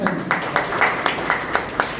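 An audience applauding at a school event, in rhythmic, evenly spaced group claps, fairly loud and steady throughout.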